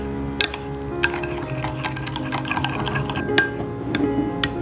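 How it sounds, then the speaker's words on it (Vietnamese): A spoon clinks and scrapes against a bowl while cornstarch and water are stirred into a sauce for stir-fried tofu, giving quick irregular taps and scraping close by. "Sau đó trộn đều lên."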